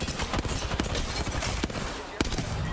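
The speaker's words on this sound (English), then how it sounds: "I'm getting shot at" Continuous Apex Legends gunfire crackling under a busy mix, with a few sharper shots popping out through a dense, steady background.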